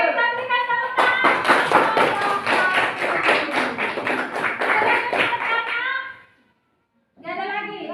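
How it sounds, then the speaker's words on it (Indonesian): A classroom of students applauds a group presentation, a burst of brisk, rapid clapping that carries for several seconds before stopping abruptly, followed by speech. "Oke, kita berikan tepuk tangan."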